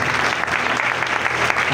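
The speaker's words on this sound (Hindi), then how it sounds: "खुदा के जलाल के लिए जोरदार तालियां हो।" A church congregation at a Christmas celebration breaks into dense, loud, sustained applause that fills the room evenly from start to finish.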